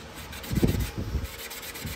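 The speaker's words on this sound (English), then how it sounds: "So we're taking quadruple zero steel wool. We're cleaning up the chrome." Quadruple-zero steel wool rubbed over the chrome grill of a Chevy C10 during restoration, a close, coarse scrubbing rasp in a few strokes with no talk.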